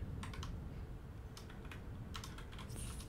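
Computer keyboard keys pressed in quick clusters of clicks, a few short bursts separated by pauses, close and fairly quiet over a low background hum.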